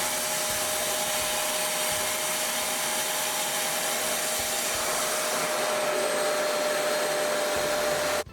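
A RevAir reverse-air hair dryer roars steadily at close range with a constant whine, running without pause until it cuts off abruptly at the end.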